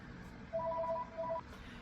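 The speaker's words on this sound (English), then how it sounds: "now the phone is ringing" Telephone ringing in a home, heard as two short bursts of warbling electronic trill. The ring is faint and distant over quiet room noise, with no talking.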